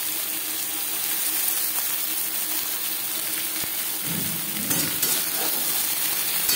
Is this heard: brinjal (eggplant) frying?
yes